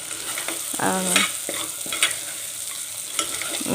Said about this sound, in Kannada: ಈ ಥರ ಸ್ವಲ್ಪ ಫ್ರೈ ಆಗಬೇಕು